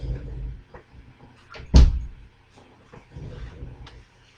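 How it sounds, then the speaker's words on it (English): A bedroom door swings shut with a single solid thud, close and fairly loud, surrounded by quiet room tone. "so I'm just going to close my door."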